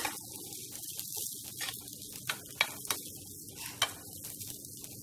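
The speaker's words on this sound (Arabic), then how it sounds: "هذا الصوت لما يطلع هذا المؤشر عندي ان البصل بدا يشتغل" Onions sizzle in a pot during the cooking of a lamb makbous with tomato sauce: a steady hiss with a few short clinks and stirring scrapes, heard close.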